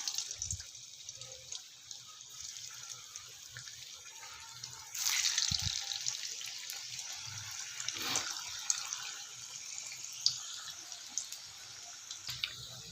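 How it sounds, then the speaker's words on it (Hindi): Manchurian balls made of flour and cabbage fry in oil. A faint background hiss swells into a louder, steady crackling sizzle partway through and then continues with small pops. "चलिए इसको फ्राई करते हैं।"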